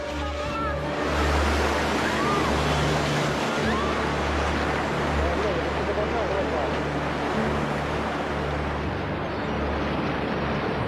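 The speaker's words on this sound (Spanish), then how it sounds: "Es una sucesión de olas que seguirán llegando durante muchas horas" Tsunami ocean waves surge in as a dense, continuous roar of rushing water and surf, loud and sustained, with a low rumble underneath and no break across the whole stretch.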